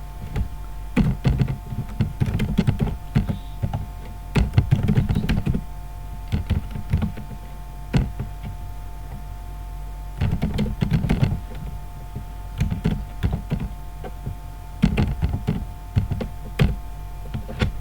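Bursts of computer keyboard typing, clattering keys in quick runs separated by short pauses, close and clear over a low steady hum.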